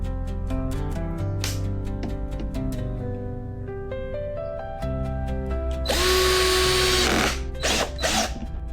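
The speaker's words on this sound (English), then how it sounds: "I'm wondering if I should drill holes in this part as well or not" A power drill runs with a steady tonal whine, drilling holes in a homemade berley bucket, then bites into the plastic with a harsher, louder grinding burst near the end.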